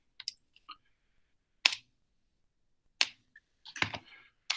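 Graphing calculator keypad pressed in a few sparse, crisp clicks and taps, separated by silence, close and quiet.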